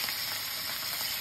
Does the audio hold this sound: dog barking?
no